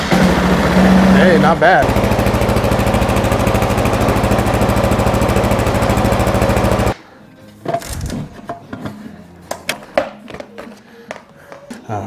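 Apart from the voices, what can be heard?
Kawasaki KLR650 motorcycle cold start with Leo Vince X3 exhaust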